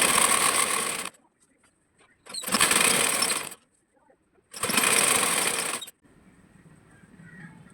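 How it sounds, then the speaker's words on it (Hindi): A sewing machine stitches seams on a six-panel petticoat, running in three steady, loud, whirring bursts with short quiet pauses between them. "और सेम इसी प्रोसेस से मैं पूरे में सिलाई लगाती हूँ"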